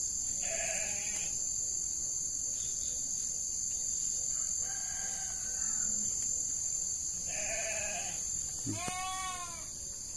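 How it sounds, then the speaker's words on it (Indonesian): Goats bleating at a goat pen beside a coffee plantation, several short bleats spaced apart at moderate distance, with a rooster crowing near the end over a steady high insect drone. "Dengar suara kambing ya."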